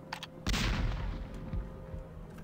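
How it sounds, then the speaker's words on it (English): A self-loading cannon fires in the Monkey Island 3 video game: a single loud, close boom with a sharp crack, trailing into a rumbling decay. "Hey, it's one of those new self-loading cannons I've heard so much about."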